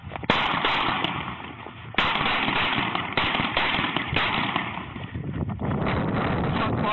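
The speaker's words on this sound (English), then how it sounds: "The officer opens fire." Police officer's gunfire during a foot chase, heard as sharp loud bangs at roughly one-second intervals over steady wind-buffeted microphone noise from a body-worn camera outdoors.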